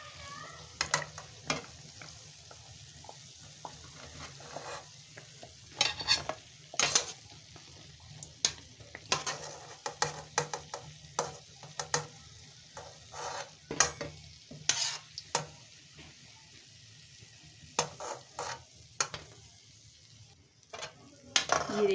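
Afghan khajoor pastries sizzle and fry in hot oil, a steady bubbling hiss broken by frequent clinks and scrapes of a stirring spoon against the pan, heard close with no talking.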